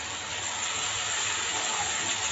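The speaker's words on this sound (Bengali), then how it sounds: "মশলাটা আমার ভাজা হয়ে গেছে, পরিমাণ মতো জল দিয়ে দেব।" Water poured over a fried spice mixture in a pan gives a steady, loud, broadband hiss that holds evenly throughout with no voices.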